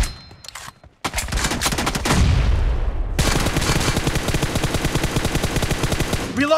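Gunfire in the mobile shooter Battlegrounds Mobile India during a team deathmatch: a few sharp shots, a short gap, then a loud booming blast followed by a long, fast, close burst of automatic fire.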